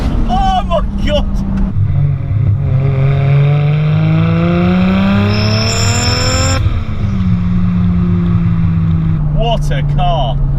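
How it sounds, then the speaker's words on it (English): Lexus IS200 fitted with a turbo and screamer pipe pulling hard through third gear, with a loud, steadily rising engine drone and turbo whine that climbs, drops at a shift, then builds again, all close up. "Right, little third gear pull for us. Hear that turbo whining?"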